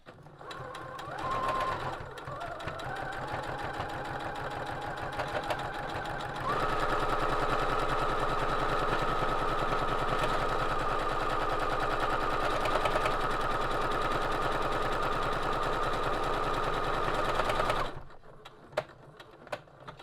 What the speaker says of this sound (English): And that's it, the buttonhole is made.